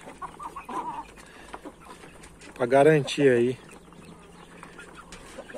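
Chickens clucking in a poultry yard during deworming, a loud burst of two or three clucks in the middle over a quieter background, with someone talking throughout.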